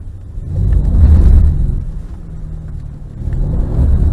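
Mercedes-Benz car on a track as its engine rumbles and accelerates, a loud low-pitched roar that swells, eases slightly mid-way, then builds again, close and steady with no voices.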